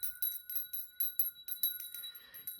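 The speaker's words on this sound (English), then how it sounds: "I'm going to ring the bell" A bell is rung to open a tarot card reading, its bright metallic tone struck repeatedly in quick succession, each hit ringing with sustained shimmering overtones before decaying.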